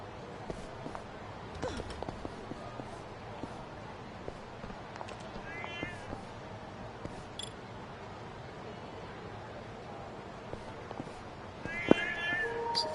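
Quiet in-game cat meows come from the video game Lost Judgment: The Kaito Files, as a few faint, brief calls set among footsteps and soft clicks, with a sharper sound near the end.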